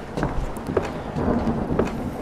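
Steady rain hiss with low rumbling thunder rolls in a horror video game played at Halloween, a continuous wet wash with a few soft distant booms.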